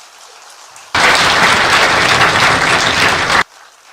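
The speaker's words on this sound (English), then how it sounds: "let's give a round of applause to the people, that is your parents, who enabled you to reach here" Loud applause from new students at a university induction program in Pune, honoring parents and faculty members; a dense burst of clapping starts abruptly, holds steady for about two and a half seconds, then cuts off.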